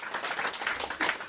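A studio audience at a French comedy show claps in a brief, lively burst of many hands, close and fairly loud, with no speech over it.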